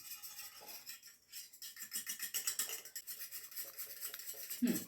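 Eggs being beaten with a spoon or fork in a bowl with salt, chutney and turmeric, giving a steady rapid clinking and scraping rhythm, fairly close and quiet.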